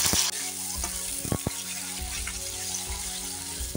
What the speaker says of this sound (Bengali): এখন পনিরটা ভেজে নেবো। তেলটা বেশ ভালোভাবে গরম হয়ে গেছে।